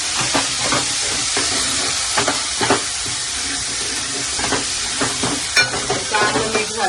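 Ginger garlic paste and green chili sizzle and hiss in hot oil as they are stirred for chole, with repeated scraping strokes of the spoon over a continuous frying hiss.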